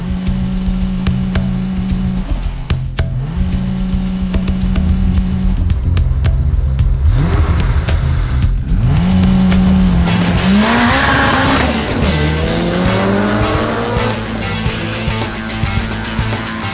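Turbocharged Toyota Corolla with a 650 bhp 3S-GTE engine drag racing an Aston Martin V12 on a track: loud, close engine roar with rising gear-change pitch sweeps, tire squeal and a car passing by, without talk.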